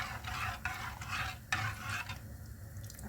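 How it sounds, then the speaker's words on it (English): Maggi vegetable soup stirred in a pot, a steady scraping and swishing that runs nonstop with a few sharper knocks against the pot's side, close up and alone, with no talking. "You stir until the maggi soup dissolves."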